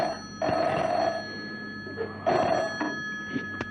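A classic telephone bell rings in two distinct bursts separated by a pause, loud and close, with no talk over it and faint room noise between the rings.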